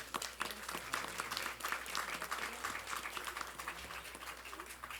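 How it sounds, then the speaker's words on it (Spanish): A conference audience applauds the second speaker of the day at a family studies session, a steady wash of clapping that holds for the whole stretch. A few voices murmur faintly underneath. "Un fuerte aplauso, por favor, a la doctora"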